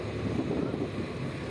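A ferry launch on a river crossing near São Francisco do Sul, heard as a steady low engine and water rush mixed with heavy wind buffeting the microphone, continuous and fairly close with no talk.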